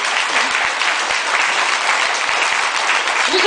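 Steady applause from an audience at a judo club tournament, with children dressed for the event, holding a dense, even clapping texture throughout without breaks.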